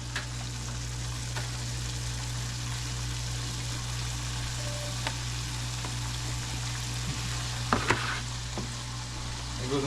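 Razor clam feet frying in hot grease, a steady broadband sizzle holding evenly throughout with a few brief clicks and pops near the end.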